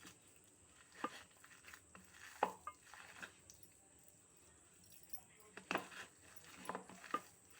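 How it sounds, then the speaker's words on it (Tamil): A utensil scrapes and taps against a bowl in scattered strokes as food is mixed, close and fairly quiet over a faint steady hum. "நல்லா ஒன்றை போல் மிக்ஸ் பண்ணிக்கோங்க."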